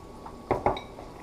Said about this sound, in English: You want to make sure that you stir your pasta every so often so it doesn't stick to the bottom of the pot.